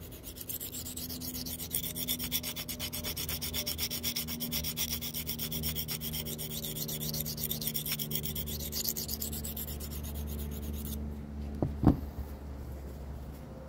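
A Spyderco SPY27 Manix knife blade is drawn over Venev resin-bonded sharpening stones, producing a steady close gritty rubbing and scraping that runs continuously, ending with a brief sharper tap.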